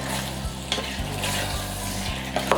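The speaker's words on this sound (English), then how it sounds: "Stir it well." Garden egg stew with njanjamoto simmering in a pot, stirred with a utensil, giving a steady wet sizzle with regular scraping knocks against the pot about every half second.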